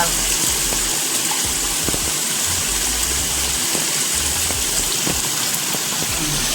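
A clean, cold forest stream rushes and gushes steadily in a constant broad hiss, close and fairly loud, with faint knocks underneath.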